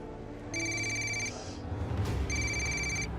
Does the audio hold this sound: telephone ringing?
yes